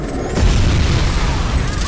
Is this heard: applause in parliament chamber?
no